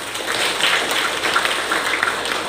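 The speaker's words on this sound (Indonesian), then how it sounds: "Kita berikan tepuk tangan dulu buat BKKBN." Applause from a crowd at a stunting-reduction campaign event honoring BKKBN: steady, dense clapping that holds at an even level for the full stretch with no pauses.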